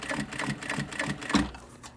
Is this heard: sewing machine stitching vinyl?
yes